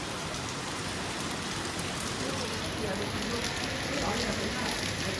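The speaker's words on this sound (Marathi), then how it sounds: "पाऊस बघा किती जोरात आला आहे" Steady, dense downpour of heavy rain, a continuous roaring hiss with no breaks.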